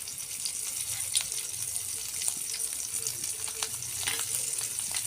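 Cumin seeds with ground clove and cinnamon sizzle in hot oil, a steady, soft crackling hiss with occasional small pops, heard up close at a low level.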